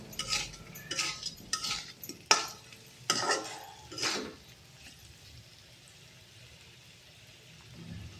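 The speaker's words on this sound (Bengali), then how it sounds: "দেখুন মশলা আর আলু ভাজা ভাজা হয়ে গেছে।" Potatoes and spices fry for an egg and potato curry while being stirred, with a low sizzle and a series of scraping spatula strokes over the first half, then a quieter simmer.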